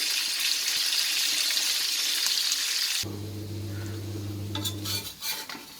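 Fish fries in hot oil for a Kerala fish roast, giving a loud, bright, steady sizzle for about three seconds. It then drops to a lower stove hum with a few light clinks of utensils.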